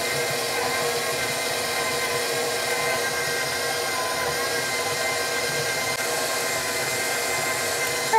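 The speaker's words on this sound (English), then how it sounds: "You could probably do this with 2 knives as well, but using the mixer is easier for me" An electric stand or hand mixer runs steadily, cutting butter into biscuit dough in a home kitchen, a continuous motor whir with a constant level and no breaks.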